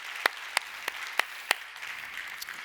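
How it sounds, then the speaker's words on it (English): An audience gives a brief round of applause at a technology partner panel, a handful of distinct claps standing out over a thin, scattered patter that fades quickly. "So please join me in just giving a quick round of applause for their support."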